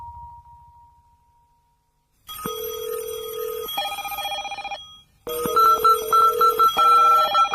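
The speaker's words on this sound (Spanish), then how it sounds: "imaginen que hacen una llamada telefónica" A telephone rings as a sound effect, with bursts of electronic ringing tones after a brief quiet hum, loud and alone with no voices.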